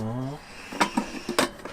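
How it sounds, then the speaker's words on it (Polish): A small pot is set down for boiling coffee water during a road trip through Bulgaria to Greece: a handful of light metallic clinks and knocks, close by, following a brief voice. "Dobra, to jeszcze staw mi garnuszek z wodą."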